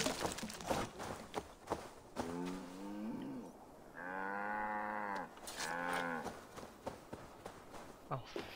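A cow in the video game Assassin's Creed Valhalla gives several drawn-out moos at moderate distance, sounding between footsteps and other game noises, with a voice speaking around the calls.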